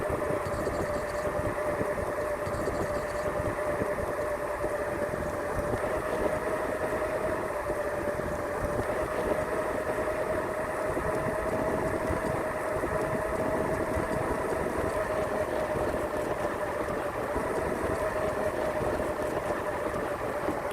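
A vehicle engine idles in gear 1 during a late-night ride in Clayton and Henry County, suburban Atlanta, a steady close drone with a constant tonal hum and faint rattling vibration, no talk.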